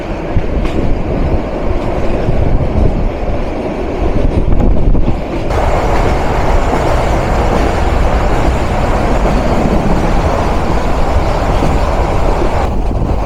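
Rangpur Express train running through Tejgaon railway station in Dhaka, passing a halted Sirajganj Express; steady loud rolling rumble and rattling wheels continue throughout, with a brief change in tone around the fifth second.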